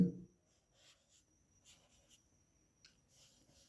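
Pen writing on paper: faint, light scratching strokes in short bursts after a brief louder knock at the start, quiet and close, with no voices.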